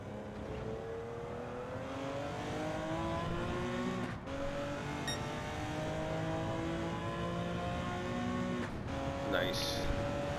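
Porsche 917K '70 race car in Gran Turismo 7, its engine droning steadily with rising and falling pitch through gear changes, loud and continuous throughout, with a brief shift break midway.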